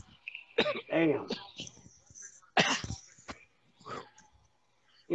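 A man coughs in several harsh bursts, close to the microphone during a podcast recording, with brief pauses and throat clearing between fits.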